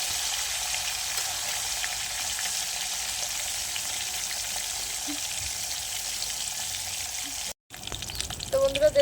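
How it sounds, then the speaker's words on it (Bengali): Bhangan fish frying in oil in a wok makes a continuous loud sizzle that runs unbroken, cuts out briefly near the end, then returns with some clatter; no voices heard. "কড়াইতে তেল দিয়ে মাছ আমি ভাজা শুরু করে দিয়েছি"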